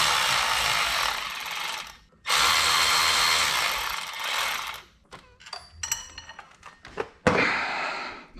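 A ratchet loosening a bolt on a Corvette water pump gives close, loud clicking and grinding bursts, with strained metallic creaks and a final sharp release as the bolt breaks free.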